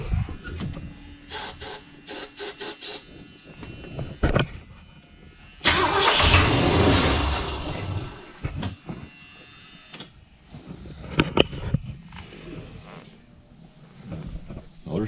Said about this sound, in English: Motor sounds good though.